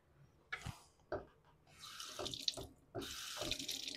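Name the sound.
running water from a tap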